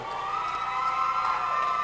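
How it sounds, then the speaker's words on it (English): A crowd of wrestling fans at a 1995 event in Gore, Georgia, cheers and shouts continuously, a steady roar of many voices without pause. "Fans cheering for Rob the Bull McBride."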